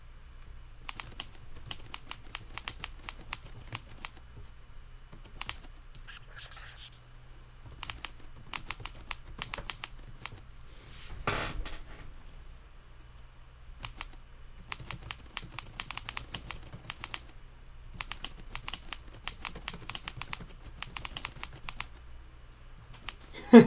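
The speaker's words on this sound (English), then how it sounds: "Oh, I gotta type it." Computer keyboard typing in bursts of rapid, quiet clicks, with short pauses between runs of keystrokes, close and alone.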